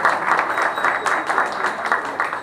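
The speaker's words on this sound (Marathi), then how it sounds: "पुन्हा एकदा मला जोरात टाळ्या पाहिजे." An audience applauds at a Navaratri festival gathering at a day-care centre: dense, steady clapping from many hands, close and loud for a couple of seconds.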